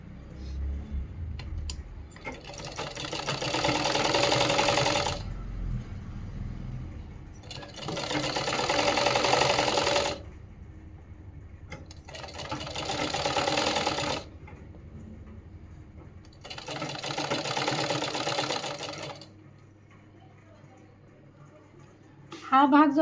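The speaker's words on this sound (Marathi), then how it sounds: "खालच्या बाजूने शिलाई मारायची" Sewing machine stitching a princess cut seam on a blouse, four long bursts of fast rattling stitching separated by pauses, close and fairly loud.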